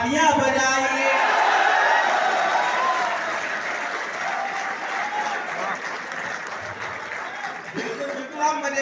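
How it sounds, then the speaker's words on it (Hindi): Sustained audience applause at a live comedy show, loud and continuous clapping from a crowd that tapers slightly toward the end, with a brief louder burst near the close. "तालियां बजाइए।"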